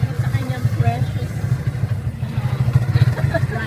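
A motorcycle engine runs with a low, throbbing rumble as the bike jolts over a rough, rocky dirt road on a land tour in Coron. The noise stays fairly close and continuous, with bumps and rattles over it.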